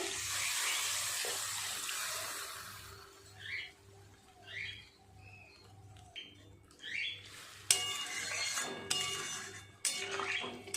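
Water poured into a pan of spiced potatoes for a Bengali fish curry: a rushing, hissing pour fades into quieter bubbling with a few clinks, then more bursts of pouring or sizzling near the end.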